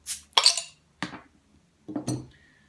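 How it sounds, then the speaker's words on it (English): Beer bottles of pumpkin ale are opened at close range: a few separate sharp glassy clinks and cap pops with pauses between them, no talking. "Let's get these bottles open."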